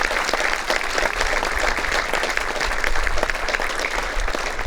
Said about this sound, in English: I would just love to join a rousing thank you of a round of applause for all the coaches.